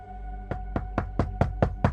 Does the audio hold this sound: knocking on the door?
yes